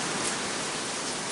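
A brief, steady roar of heavy rain, a thick uniform hiss falling without pause and with no talking.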